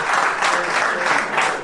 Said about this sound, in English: Give a round of applause to Ma Welch, everybody.